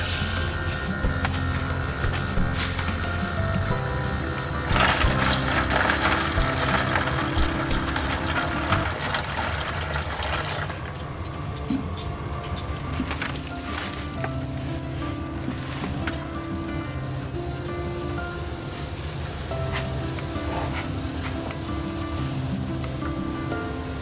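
Steady hissing spray of water from misting nozzles onto Heliamphora pitcher plants runs continuously, mixed with a mechanical pumping drone, close and fairly loud throughout.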